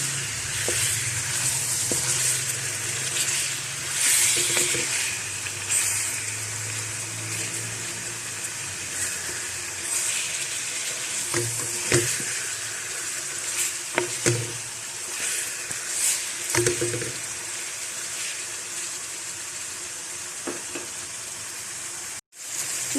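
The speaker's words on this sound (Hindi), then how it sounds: "लहसुन को भी थोड़ा सा फ्राई कर लेते हैं चिकन के साथ ही।" Garlic fries together with chicken pieces in a pan for Sindhi biryani, a steady close sizzle that runs throughout, broken by intermittent scraping stirs and clicks before cutting off sharply near the end.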